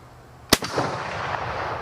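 A Mossberg 500 12 gauge pump shotgun fires a 3-inch, 1-ounce magnum slug outdoors: one sudden, very loud blast followed by a rolling echo that fades over the next second.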